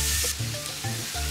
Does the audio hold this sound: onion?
yes